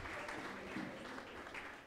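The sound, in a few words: church congregation applause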